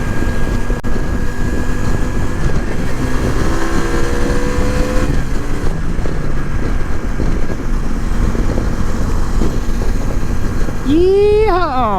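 A Suzuki Intruder motorcycle engine drones steadily while riding, with shifting pitch as it accelerates and wind rushing past, and a rider's voice speaks over it.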